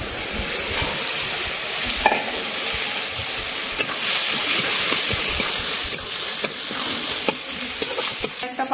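Soaked, chopped soybean chunks go into a hot pan for vegetarian dalia khichuri and are stirred. A steady, loud sizzle runs throughout, with scraping stir strokes on top.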